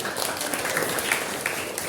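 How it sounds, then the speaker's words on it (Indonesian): Classroom applause for students during a teaching session, a brief, moderately loud patter of many hands clapping at once, steady for two seconds with no voices. "tepuk tangan untuk kalian"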